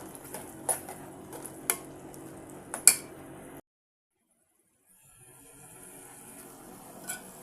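Ginger garlic paste being stirred in a pan on the stove for a vada pulusu curry, with a few sharp utensil clinks against the pan over a soft sizzle, then a brief pause before quiet cooking noise resumes.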